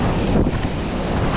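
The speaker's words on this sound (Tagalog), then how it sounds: "Masyadong malakas ang alon." Strong, rough ocean waves surge near a fishing spot on a hillside shore, a dense, continuous wash of surf mixed with heavy wind buffeting the microphone, loud and close with no voices.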